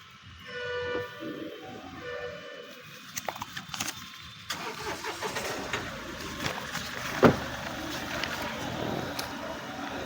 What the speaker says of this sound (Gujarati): પહેલે ઝટકે ચાલુ ગાડી